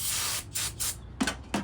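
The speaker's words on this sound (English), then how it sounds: "Now I'm going to use a little bit of a brake clean and my little shop towels here" Brake cleaner sprayed onto the oil filter housing mating surfaces of a 2012-2017 Jeep Wrangler engine, heard as a long hiss followed by several short, sharp bursts of spray, close and fairly loud.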